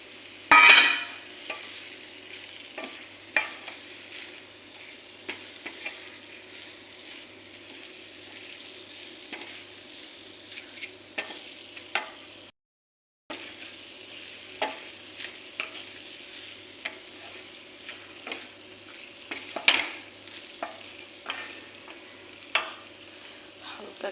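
Capsicum and paneer being stir-fried together in a pan, a soft steady sizzle broken by frequent scraping and stirring clatters from a spatula, heard close, with one brief pause midway.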